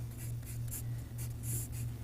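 A pencil scratches steadily across paper while sketching a computer with keyboard and mouse on a table, a continuous soft scraping with short bursts of quicker strokes.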